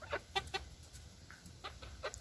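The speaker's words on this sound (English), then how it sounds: "And they're just little chickens." Small, fluffy young chickens on a farm give soft, quiet clucks and chirps in short scattered bursts close by, with no talk over them.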